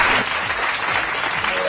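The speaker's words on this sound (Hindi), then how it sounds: "नताशा के लिए बहुत सारी तालियां।" A studio audience on a TV beautician contest show applauding for Natasha, a short dense burst of clapping filling the whole moment.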